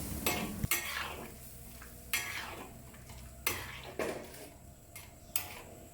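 A spatula scrapes and clanks through Thai rad na gravy thickened with cornstarch slurry in a wok, sharp strokes repeating every second or so over a low bubbling sizzle, close and clear with no voices.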